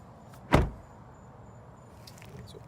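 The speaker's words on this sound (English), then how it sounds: "Close the door." A single solid 2018 Hyundai Elantra GT car door thump shuts nearby, followed by quiet interior hum and faint small clicks.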